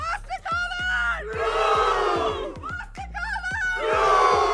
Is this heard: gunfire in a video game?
no